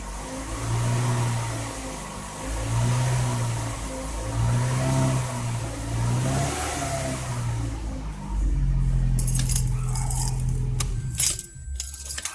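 A car engine revs in repeated rising and falling bursts, each held for a second or two, loud and close, with jingling keys and faint metallic clinks near the end.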